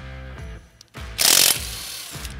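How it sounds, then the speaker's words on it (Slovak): An electric impact wrench spins off a car's wheel lug nuts, with a short loud burst of hammering rattle between motor whirs that start and stop, close-up and with no voices. "Ako vidíte, veľmi jednoducho vám tento elektrický pomocník vyťahne skrutky z kolesa."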